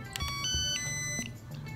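A telephone line's 'number not in service' intercept tone: clear electronic tones stepping in pitch one after another, steady and moderately loud with no talk over them.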